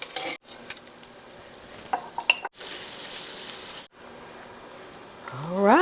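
A tuna steak sizzles on a grill grate, an even frying hiss broken by short gaps and a few scraping clicks, with a brief rising squeak at the end and no voices.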